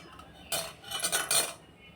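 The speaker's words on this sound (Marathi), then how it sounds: "बघा कुकर उघडला" A pressure cooker lid is opened in a home kitchen, with a few sharp metallic clinks and rattles close by, bunched into a short burst before the sound settles back to quiet.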